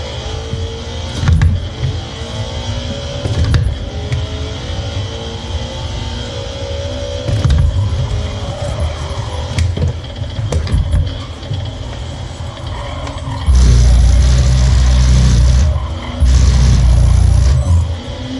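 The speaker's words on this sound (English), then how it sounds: "I have my microphone set up to where you can hear kind of the vibrations of the force feedback" Force feedback from a Thrustmaster T598 direct-drive racing wheel during sim driving: a low rumbling buzz with periodic clunks and thumps, surging into stronger sustained shaking in the last few seconds, alongside a steady car engine drone.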